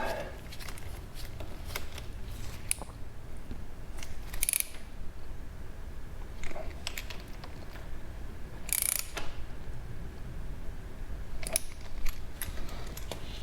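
Ratchet tightening two 5mm hex retaining bolts on the front sprocket of a CSC SG250 motorcycle, a series of rapid close clicking ratchet strokes with metallic clinks, over faint background noise.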